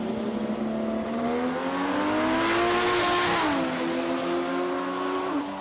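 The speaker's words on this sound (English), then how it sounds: "screaming sixes by the sound of it" Six-cylinder drag race cars at Willowbank Raceway scream down the strip with a sustained, loud high-revving engine wail that shifts pitch as gears change, heard alone.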